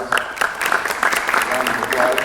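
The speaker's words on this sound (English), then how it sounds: "Let's give them a hand of applause." Student audience applauding at a Cleveland State University speech, a close, steady patter of clapping with voices talking over it.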